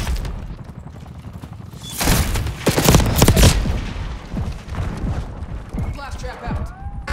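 Frag grenade detonating in Call of Duty Black Ops 6 multiplayer, a heavy blast rising out of steady gunfire and lingering for a second or two, with voices calling out over the action.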